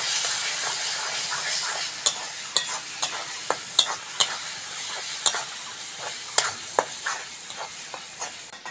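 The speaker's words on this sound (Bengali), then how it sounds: "ভালো করে মশলাটা এবার কষে নেব বন্ধুরা" Turmeric, red chilli powder, coriander, cumin and ginger paste stir-fried in a pan for dhaba-style egg curry, a close hiss with a run of sharp spatula scrapes and knocks against the metal, no talk.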